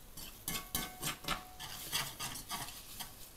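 Shallots and mustard grain are stirred in a hot pan, a close, rhythmic series of spoon scrapes over a soft sizzle, repeating roughly every half second.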